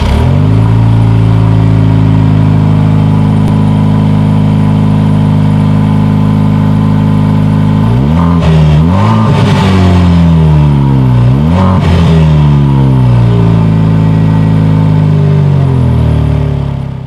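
A 2020 Jaguar F-Type four-cylinder sports car idles loudly and close at a steady rumble, then its exhaust roars through several sharp revs that rise and fall before settling back to idle.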